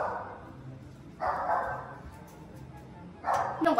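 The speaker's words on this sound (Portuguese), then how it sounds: "O cachorro tá latindo." A dog gives two or three barks at a moderate distance in a noisy home setting. Each is a short burst spaced about two seconds apart over a low background hum.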